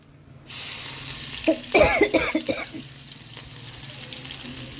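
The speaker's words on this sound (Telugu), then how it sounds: "పోపు ఆ కలగూరలు వేసుకొని 1 నిమిషం వేడి చేసుకుంటే సరిపోతుంది" Tempering spices hit hot oil for a curry in a home kitchen, bursting into a sudden loud sizzle with sharp crackles and pops that ease into a steady frying hiss.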